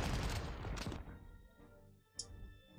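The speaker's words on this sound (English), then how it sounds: "What we should do is hit this with a tactical bomber." Tactical bomber attack in the Panzer Corps strategy game, a burst of rapid explosive gunfire-like blasts fading into rumble, then a brief sharp impact; fairly quiet overall with no talking.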